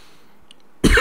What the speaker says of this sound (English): I've been having a bad cough recently.